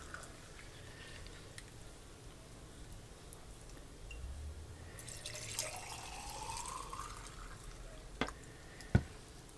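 Ham broth made from bouillon paste poured into canning jars of dry pinto beans, a faint trickling and splashing stream building midway, with a couple of sharp clinks of glass near the end.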